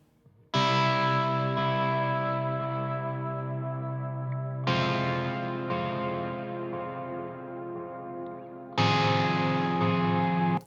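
Three sustained, heavily distorted guitar chords ring out through an amplifier, each struck and left to decay slowly, loud and alone.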